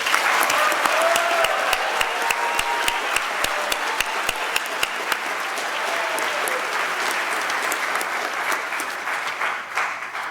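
At a high school science awards ceremony, an audience gives long, steady applause for the rising students, with a run of sharp, rhythmic claps near the front early on before the applause slowly fades.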